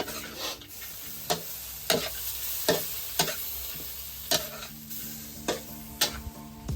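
Fish being stir-fried in a hot pan: a continuous sizzle broken by sharp, regular scrapes and clanks of a utensil against the pan, about one every half-second to second, close and alone without talk.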